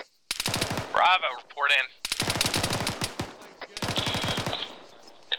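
Rapid machine gun bursts of suppressive fire in a military video game, three long loud rattling strings of shots separated by short gaps, with a man's radio-style voice speaking briefly between them.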